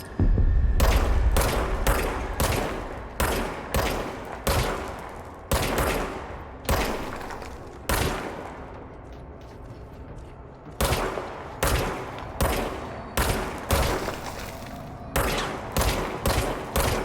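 Bursts of gunfire from weapons in the video game Control, loud and close, fired in clusters of rapid shots with short pauses between volleys and a low throbbing hum underneath.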